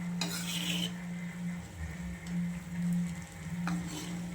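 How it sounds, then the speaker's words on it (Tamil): Homemade herbal hair oil with green leaves bubbles gently in a pan, a soft crackling sizzle punctuated by a few sharper stirring scrapes, close and steady with no talking. "இன்னும் லைட்டாக சலசலன்னு கொதிக்குது இல்லை"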